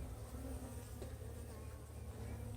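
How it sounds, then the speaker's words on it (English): Honey bees buzzing around their hive after a swarm has left, a steady droning hum holding at one level throughout, close by with no one talking. "I come back today, there's a handful of bees."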